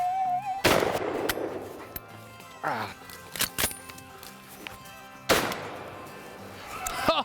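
Shotgun blasts ring out during a rabbit hunt, two loud sharp reports a few seconds apart followed by decaying echoes, with other sharp clicks and short sounds in between.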